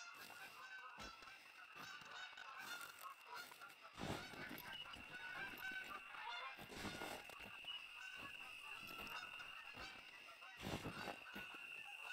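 Geese honk repeatedly in the hunting game TheHunter: Call of the Wild, a dense flock calling in overlapping bursts with louder surges, steady and continuous over ambient outdoor background.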